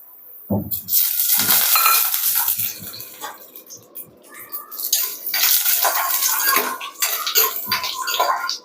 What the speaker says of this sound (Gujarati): તો આપણે એમાં કાજુ એડ કરી લેશું અને એને તળી લેશું.